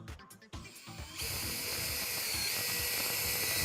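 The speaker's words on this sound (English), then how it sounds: "I'm just going to drill right on that mark" A power drill bores into wood in a workshop: a few brief handling knocks, then a loud, steady high-pitched whine that runs close and unbroken to the end.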